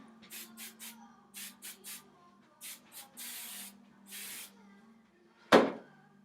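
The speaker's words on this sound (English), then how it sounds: "I'm gonna give her a little bit more hairspray." Hairspray comes from an aerosol can in a quick series of short hissing bursts, a few longer sprays among them, close to the microphone, followed by a sharper knock near the end.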